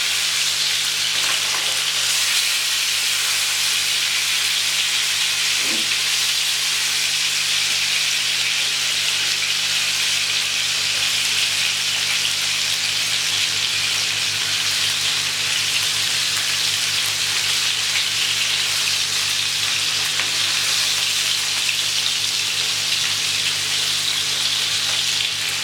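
Fish frying in a pan over medium-low heat, producing a continuous dense, even sizzle and crackle of oil that stays loud and close throughout, with no talking.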